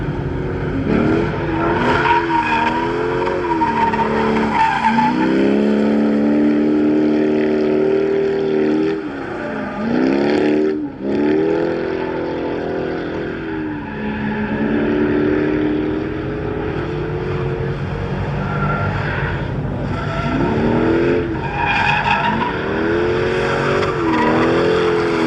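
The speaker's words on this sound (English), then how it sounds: "I just cut the mufflers off the car because I wanted it to be a little bit louder so I could hear that sweet LS1" A C5 Corvette with a 5.7-liter LS1 V8 and its mufflers cut off, loud and close, revving repeatedly in rising and falling sweeps with a harsh, raspy exhaust note and a rough idle between pulls.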